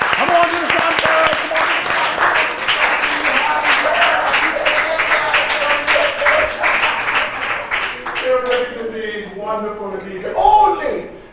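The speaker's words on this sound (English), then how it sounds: "Give her a round of applause again." Audience at a 2018 spelling bee semifinal applauds the winner, with sustained dense clapping for about eight seconds that thins out as a voice cuts in near the end.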